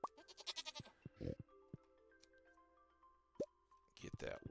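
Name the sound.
sheep and goat bleating in video game Stardew Valley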